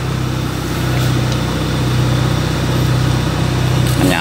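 Car engine idling steadily right after a push-button keyless start, a low continuous hum with a faint harmonic drone holding level and close for the whole stretch, no talk.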